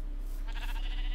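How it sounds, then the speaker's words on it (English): Sheep bleating in a video game world near dusk, a single drawn-out bleat rising in the second half over a steady low background hum, with no talk. "There's sheep in holes."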